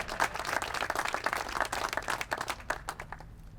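Applause from a press-conference audience marking a city named Michigan's safest, many hands clapping in a dense, steady patter that thins toward the end, with no voices over it.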